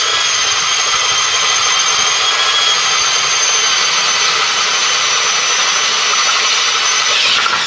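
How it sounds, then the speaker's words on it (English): Steady loud high-pitched drilling, with no pauses, as holes are bored through Ford Cortina rear trailing arms to take a rear anti-roll bar, heard close and alone without talk. "I'm now drilling the holes in Bramble's arms to take the anti-roll bar rear"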